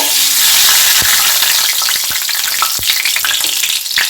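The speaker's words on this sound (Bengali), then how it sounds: "এবার আমি এই তেলটায় দিয়ে দেব একটা ছোট তেজপাতা" A small bay leaf sizzling in hot mustard oil in a pan, a loud, dense, steady crackle and hiss with a few sharp pops, no voices.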